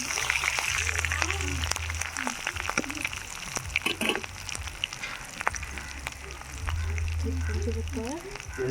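Turmeric is stirred into a hot tempering frying in a pan for tamarind rice, giving a light sizzle broken by sharp scrapes and clinks of the spoon, with bursts of low hum from the stove in the background.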